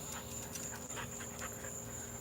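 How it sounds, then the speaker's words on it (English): Neighbors' dogs panting outdoors with faint whimpers, a steady breathy rhythm over a constant background hum; no clear barking stands out. "Now we've got the neighbors' dogs."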